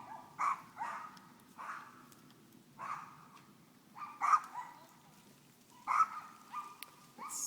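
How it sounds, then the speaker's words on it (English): Dogs bark inside a house in short bursts, somewhat muffled and at a moderate distance, with irregular pauses between the barks. "You can hear some dogs barking inside the house."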